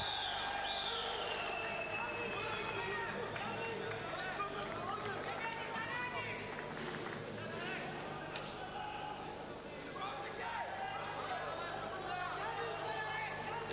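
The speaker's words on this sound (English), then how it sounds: "You can hear the crowd shouting, depending on who you're supporting, that either red or blue is being passive" Crowd shouting at a 1995 European Championships wrestling match in Besancon, a dense, continuous roar of many voices filling the hall throughout.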